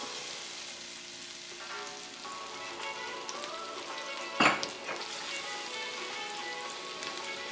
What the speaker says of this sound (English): Let's go ahead and drop the garlic.